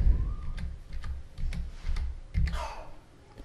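Typing on a computer keyboard, a quick run of crisp key clicks with a few heavier thumps, close and fairly quiet, with no voices.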